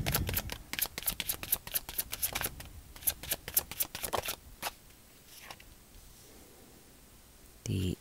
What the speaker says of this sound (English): if you want to skip through this part of the shuffling